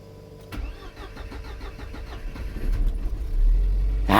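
A Mercedes W124 with a Voltarent EFI conversion cranks and fires up, starter whirring briefly before the engine catches and settles into a loud, high idle close by.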